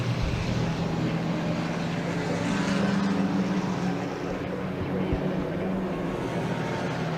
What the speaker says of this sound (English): Another car I can hear coming back into the pits.